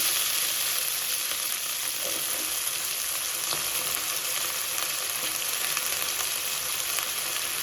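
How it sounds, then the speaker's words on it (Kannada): Chopped onion sizzles in hot oil with mustard seeds in a pan for curd rice, a loud, dense, continuous frying hiss with faint stirring scrapes, close and steady throughout. "ಆಮೇಲೆ ಒಂದು ಈರುಳ್ಳಿನ ಕಟ್ ಮಾಡ್ಕೊಂಡಿದ್ದೀನಿ. ಈರುಳ್ಳಿನ ಹಾಕೊತಾ ಇದ್ದೀನಿ."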